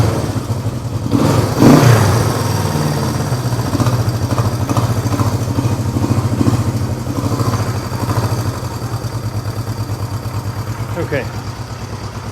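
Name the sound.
Honda CB350 motorcycle engine running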